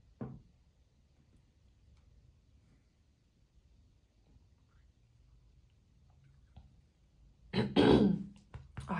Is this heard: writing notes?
no